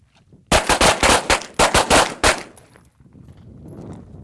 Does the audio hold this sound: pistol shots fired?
yes